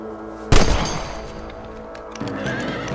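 A single loud gunshot rings out in Red Dead Redemption during a rabbit hunt, a sharp crack that echoes into a long tail, followed by a horse whinnying and ambient outdoor sounds.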